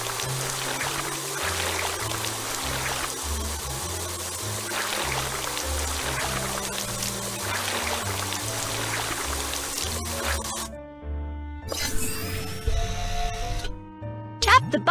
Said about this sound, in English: drag the water sprayer to rinse off the mud